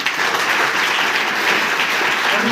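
Audience at a taluka science exhibition in Himmatnagar applauding teachers, a steady, full burst of clapping from many hands that holds evenly.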